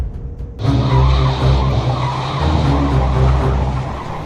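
A car swings into a sharp turn with its tyres skidding and squealing, a sudden loud screech that holds steady for several seconds with no talk over it.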